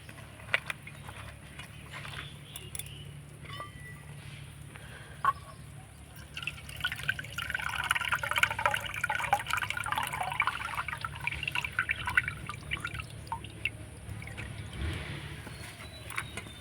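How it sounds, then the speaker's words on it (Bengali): Puffed rice (muri) is washed in water, with soft, faint sloshing, dripping and trickling that swells in the middle and then settles back to a quiet wet rustle. "এইভাবে করে একটু মুড়িটাও নরম হয়ে যাবে আর ভালো করে ধুয়ে নেব।"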